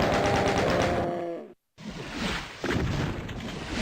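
Rapid gunfire in a Doom-style game as a bear is shot, with bursts of shots, a sudden cut to silence and then more firing amid noisy game sound.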